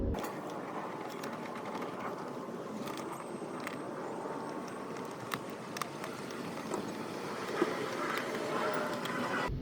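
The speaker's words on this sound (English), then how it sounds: "I've located where I want to screw in the camera." A screw is driven in to mount the rear camera of an Azdome M550 dash cam, a faint, steady mechanical whir with scattered small clicks and ticks, low and close without speech.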